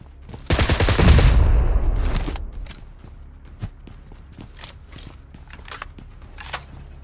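A mobile shooter video game fires gunfire as a team wipes out an enemy squad: a loud, dense burst of rapid shots lasting under two seconds, followed by scattered faint clicks and small mechanical taps.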